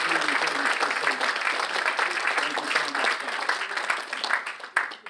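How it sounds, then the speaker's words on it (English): A livestreamed film premiere audience gives a sustained round of applause that is dense and even at first and slowly thins toward the end, with faint voices beneath the clapping. "I think they deserve another round of applause"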